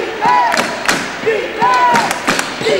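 A basketball crowd cheers and chants for the Falcons' defense during a game, with loud rhythmic voices and thumping bursts that rise and fall close by.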